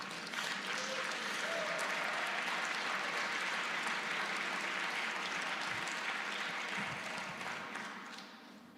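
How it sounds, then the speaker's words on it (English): Conference audience applauding after a talk, dense sustained clapping from a large crowd that holds steady for several seconds and then gradually tapers off. "a louder applause, please?"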